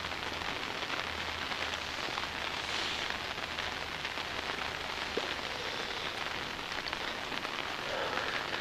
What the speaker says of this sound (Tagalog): Why uwan gani nagkusog dire?